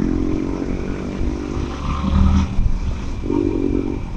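A Yamaha R15 V4 motorcycle engine revs on a neighbourhood street, a loud, close throaty drone that rises and falls in pitch, with a stronger surge midway.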